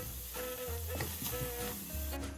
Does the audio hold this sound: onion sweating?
yes